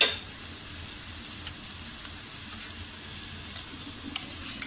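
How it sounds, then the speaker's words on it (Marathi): Ginger-garlic paste dropped onto softened tomatoes frying on a street-style tawa for pulao, a quiet steady sizzle after a brief opening burst, with a few light metallic taps from the spoon. "आता याच्यामध्ये आपण थोडी आलं लसूण पेस्ट टाकूया"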